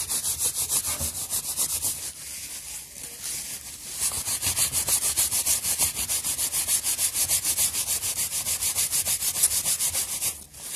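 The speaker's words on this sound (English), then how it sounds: "Now keep rubbing it till the design comes through like that." A rag rubs steadily back and forth over a design transfer on a 3D printed Thor's hammer, Mjolnir, making a close, continuous scratchy swishing with fast even strokes and no talking.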